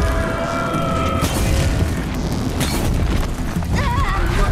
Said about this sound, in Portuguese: Explodiu todos os tanques dele, meu.